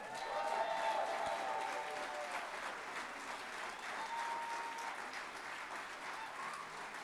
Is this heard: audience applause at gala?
yes